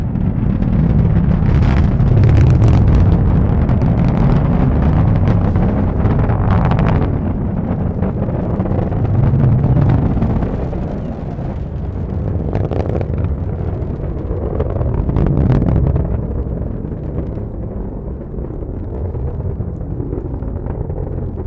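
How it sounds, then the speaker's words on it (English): An Atlas V rocket with its RD-180 engine and two solid rocket motors climbs during the crewed Starliner launch: a continuous, heavy, crackling roar with deep rumbling and gusty wind buffeting across the microphone, easing slightly toward the end. "Let's listen to the roar of that RD-180 engine and those two solid rocket motors."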